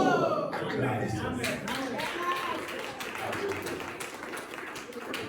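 Rhythmic congregation clapping at a French-speaking church service, steady and fairly close, with voices calling out over it.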